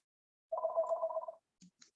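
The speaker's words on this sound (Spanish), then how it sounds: "A ver un momento porque está aquí sonando el teléfono." A landline telephone rings once indoors, a steady warbling electronic bell lasting under a second, clear and alone, followed by a few faint clicks.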